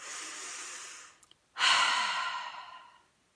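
A slow, deep breath in and out, close and quiet: a soft airy inhale for about a second, a brief pause, then a longer, stronger breathy exhale that fades out.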